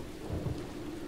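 Steady rainfall and a low rumble of thunder fill the ambience of the video game Deadly Premonition, faint and brief, with no talking.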